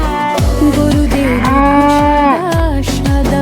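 A cow moos as a sound effect inside a Bengali children's animal rhyme song, one drawn-out low call ringing over bright music with a steady thumping beat.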